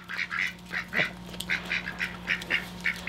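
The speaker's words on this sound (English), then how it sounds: "that little hurry, hurry, that's my favorite thing that the ducks do" Ducks quack in a quick, busy series of short nasal calls as they hurry along, fairly close, with a steady low hum underneath and no talk.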